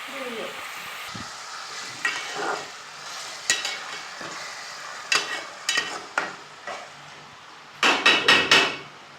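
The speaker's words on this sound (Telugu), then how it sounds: "అల్లమా బాగా వేగాలి అప్పుడు టేస్ట్ వస్తుంది" Ginger fries in a pan with a soft sizzle, broken by sharp repeated scrapes and clacks of a utensil stirring, growing busier toward the end, close and moderately loud.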